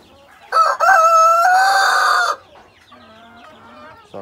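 Free-range heritage breed chickens on a farm, with one loud, close crow followed by softer repeated clucks, and no talk.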